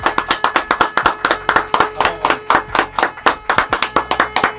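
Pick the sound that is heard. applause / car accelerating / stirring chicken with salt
applause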